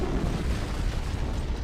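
An antimatter charge explodes in a Halo video game, a loud, dense rumbling blast that roars continuously through the short stretch without any clear attack or fade.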